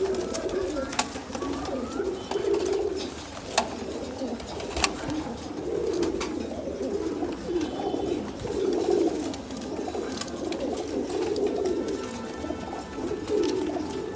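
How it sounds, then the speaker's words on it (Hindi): Pigeons coo steadily in low, rolling murmurs, several birds overlapping nearby with a few sharp clicks and flutters. "जमाल भाई देख लीजिए आप कबूतर"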